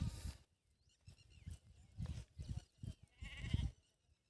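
Several short bleats from a flock of sheep being gathered into their fold, rising and falling in irregular bursts over a quiet rural background, fairly close.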